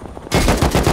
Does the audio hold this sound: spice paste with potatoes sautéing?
no